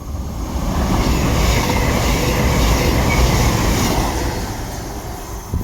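A Cross Country passenger train to Bournemouth rushes past near Radley or Oxford, a loud close rumble of wheels swelling and easing over several seconds, with no talk.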